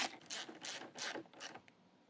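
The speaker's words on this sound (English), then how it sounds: "Now take your 1/2-inch socket and tighten down your bolts." Quick, close bursts of ratchet clicking as a 1/2-inch socket wrench tightens the caster bolts on a Tennant Boss 2000 LE floor machine, four or five strokes in a row with no voices.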